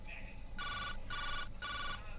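Electronic telephone in a video game ringing in three even bursts of trilling tones, each about a third of a second long, close and clear over low background hum.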